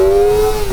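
The engine of a 2024 Kawasaki Ninja ZX-4RR motorcycle screams at high revs for a brief, loud, close burst, holding a steady tone that sags slightly at the end.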